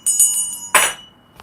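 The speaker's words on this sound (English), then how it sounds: "You get a bell." A bell sound effect rings out in a few quick, bright chimes, followed by one louder, fuller strike that decays away, then a faint final tap.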